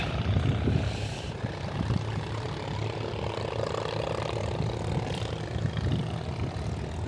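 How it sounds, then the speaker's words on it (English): Steady motorboat engine drone rumbles throughout, rising and falling slightly as boats pass by at moderate distance around floating villages in Kampong Chhnang, Cambodia, with broadband water and wind noise underneath. "The sound of boats is going up and down everywhere."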